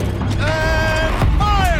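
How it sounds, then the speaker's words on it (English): A machine turret in Horizon Zero Dawn rotates with a loud, close mechanical creak and a rising, whining grind over a heavy low rumble. "Rotate turret!"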